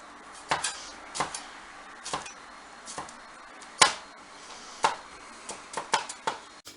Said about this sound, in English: just going to chop up some garlic